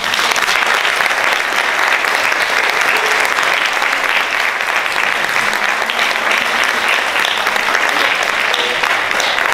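Loud, sustained applause from an audience at a lecture on a painter fills an auditorium, an even wash of many hands clapping without letup and no voices on top.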